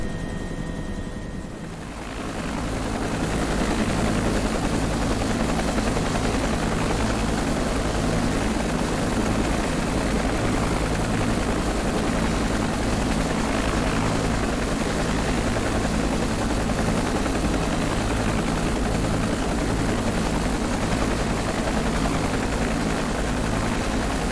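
A UH-1H Huey helicopter comes in to land in the Prepar3D flight simulator. After a short quiet start, a loud, steady rotor thump and turbine drone take over and hold at a close, constant level.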